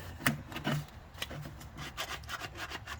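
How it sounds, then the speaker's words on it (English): A plastic filler applicator scrapes along a Porsche 964 Turbo 3.6 during detailing, giving a series of close, rhythmic rasping strokes with no talk. "just got to keep scraping away"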